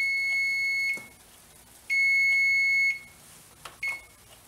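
A kitchen timer going off while wheat, cinnamon and raisin pancakes cook: two loud, steady electronic beeps of about a second each, then short chirps, with no talking.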